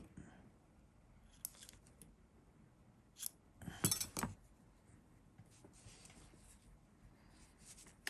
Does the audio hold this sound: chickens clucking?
no